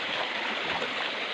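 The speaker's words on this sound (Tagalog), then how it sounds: "Ito na yung last na ilog na tatawirin." A small river flowing near a rural village crossing in Mulanay, Quezon, heard as a steady, close rushing wash of water with no voices.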